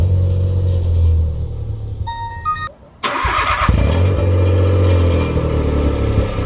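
A Citroen C1 with a newly installed loud exhaust idles with a deep droning rumble, cuts out briefly, then restarts and keeps up a raspy, loud steady idle close by.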